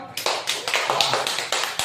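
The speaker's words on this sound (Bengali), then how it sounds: "তাহলে ওর জন্য একটা হাততালি দিয়ে দাও।" A group of children in a classroom clapping for a classmate, a short burst of brisk, close, slightly uneven claps lasting under two seconds.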